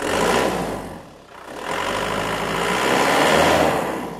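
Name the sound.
Isuzu Panther Grand Touring 2016 diesel engine revving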